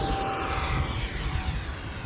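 An E-flite Habu SS 50mm electric ducted-fan RC jet takes off with a steady, loud, airy whine and roar that holds constant throughout, with no talking over it.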